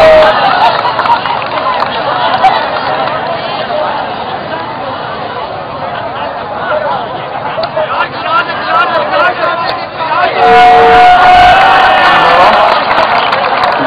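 Large crowd raising loud chants of a zindabad slogan, a dense roar of many voices with cheering and whoops throughout, close and continuous, rising near the end.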